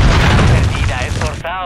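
Grenade blast in the video game Call of Duty Modern Warfare III, a loud, broad boom filling the opening second and decaying amid gunfire-like clatter, with game voices calling out.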